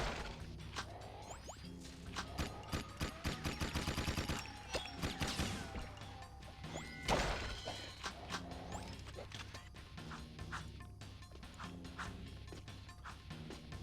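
Rapid bursts of gunfire from a video game gun, dense volleys crowding the middle stretch with sharp cracks and impacts over a steady game backdrop.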